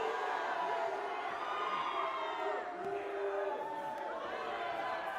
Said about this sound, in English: And a molten hot crowd comes alive for Cokane regaining control